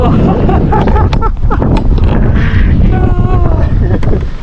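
Rain-laden wind blows hard over a boat near the shore, a loud, steady roar of gusts buffeting the microphone, with voices speaking under it.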